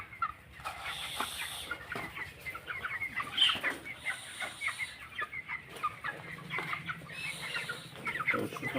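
Twenty-six-day-old broiler chickens cluck and peck busily as feed is given on a farm, a dense, close flock chorus of overlapping clucks and scratchy pecking sounds with no talking.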